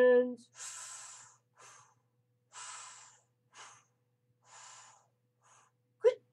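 Slow, deliberate deep breaths, each a soft airy inhale and exhale repeated about three times in an otherwise quiet space, with a brief vocal sound at the end.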